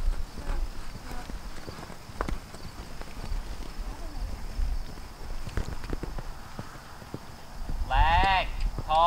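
Horse hooves clop on the ground at an even walking rhythm during a riding lesson, fairly close, with a voice breaking in near the end.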